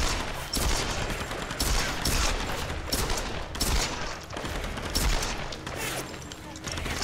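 Rapid bursts of gunfire crackle in a Tomb Raider game, repeated volleys spread across several seconds with short gaps between them, loud and dense, with a voice occasionally talking over the shooting.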